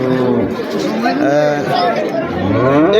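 Cattle at a busy Kochua Qurbani cattle market make low moo-like sounds amid crowd chatter and close talking. Voices dominate while the animal calls blend into the market bustle.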